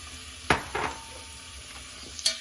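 Squid dropped into a hot casserole dish for a rice dish, giving a few sharp splashes and hisses followed by a faint steady sizzle.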